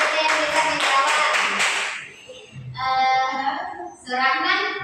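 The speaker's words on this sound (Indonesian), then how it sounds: "Tepuk tangan bagi apa untuk teman kita yang bisa menjawab?" Classmates burst into clapping for a student who answered correctly during a school lesson on halal and haram food; about two seconds of dense applause, then voices talking.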